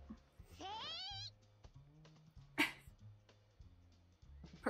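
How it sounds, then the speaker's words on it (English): Dogs bark in an anime episode, a short rising whine followed by a sharp bark, mixed with faint background music and a voice nearby. "So many dogs!"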